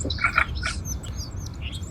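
Small birds at a backyard feeder give quick, bright chirps and tweets in short bursts near the start, then a few sparser calls over a low background hum.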